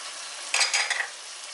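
Tomatoes fry in a pan with salt and chili powder, a steady close sizzle with a short burst of stirring scrapes in the middle.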